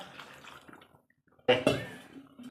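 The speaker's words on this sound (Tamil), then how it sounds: "இந்த சொம்பில் ஒரு காய்ச்சொம்பு தண்ணி ஊற்றுறேன்" Water is poured from a small vessel into a cooking pot while a fish curry is being made, a short splashing burst after a quiet pause, with faint talk before it.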